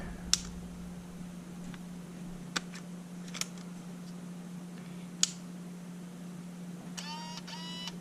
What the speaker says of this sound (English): you hear a motor running, which is the shutter motor itself.